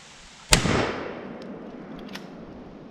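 A single sharp gunshot from a Mossberg .410 shotgun fired into a ballistic gel human head, a loud crack with a decaying outdoor tail, followed by a couple of faint ticks.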